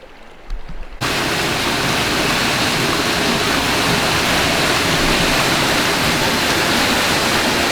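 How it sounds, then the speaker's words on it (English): Waterfall at Bulge Hole in Southern Illinois, a loud, close, unbroken roar of falling water that surges in after a brief quieter moment with some handling noise, then holds steady with no talk. "Let's go check out this waterfall."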